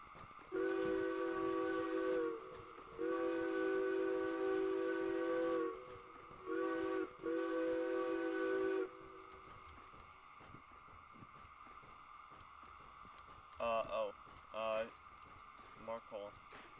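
Steam whistle of an SH 2-8-2 locomotive in the train game Derail Valley, sounding in several loud sustained blasts of differing length, then fainter rail and mechanical noises afterward.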